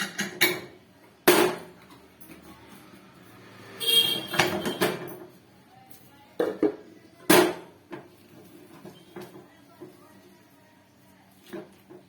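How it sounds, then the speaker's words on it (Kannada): Metal clinks and knocks as the whistle weight is lifted off a pressure cooker of rava upma: a few sharp, close clatters spread over several seconds, with quiet kitchen background between them. "ವಿಸಲ್ ಬಿಚ್ತಾ ಇದೀನಿ."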